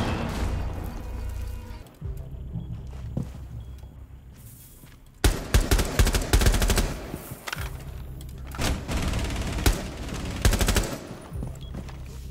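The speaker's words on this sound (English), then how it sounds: "That was the fuser bomb." Fuze cluster charge blasts going off in a back hallway by an elevator in Rainbow Six Siege, a string of sharp, rattling detonations in loud bursts over a low ambient game background.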